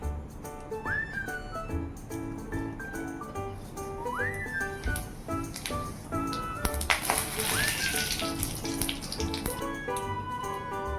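Pressure cooker holding fried moong dal whistles on a home kitchen stove, giving short rising whistle bursts about every three seconds over steady background hiss and clatter, with a louder hissing surge near the middle.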